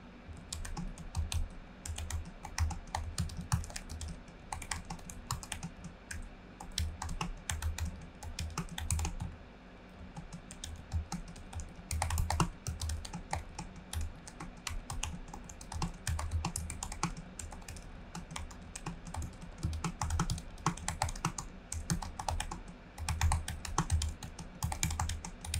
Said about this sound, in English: when you're ready to begin, you could just begin typing.